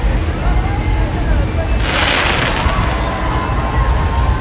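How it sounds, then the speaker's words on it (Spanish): Fireworks set off during the Three Kings parade in Puebla, a loud crackling burst standing out from the steady crowd and street noise around the middle. "Uy, hay fuegos artificiales y todo."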